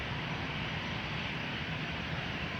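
A Sichuan Airlines painted-livery airliner gives off a constant engine roar at the airport, a dense unbroken rumble that holds level from start to finish without talk.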